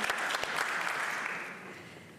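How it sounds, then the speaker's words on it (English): Applause from a conference audience at a New York event, a dense wash of clapping filling the space for about two seconds before tapering off slightly, with no voices over it. "applause is always welcome"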